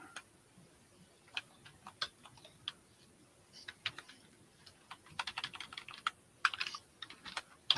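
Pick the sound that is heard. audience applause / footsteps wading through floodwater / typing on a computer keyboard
typing on a computer keyboard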